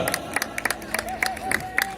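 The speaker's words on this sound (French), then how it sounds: "On peut applaudir le cheval, hein." Crowd applause at a medieval tournament festival in Rodemack, dense scattered clapping and some cheering with a voice speaking over it.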